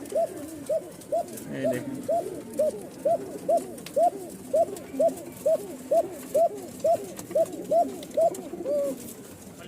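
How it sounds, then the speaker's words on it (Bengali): A Rajshahi Giribaz pigeon (kokka) coos in a steady run of about sixteen evenly spaced calls, close and fairly loud, with one brief spoken phrase and faint background noise. "ককা ডাকতেছে, দেখছেন?"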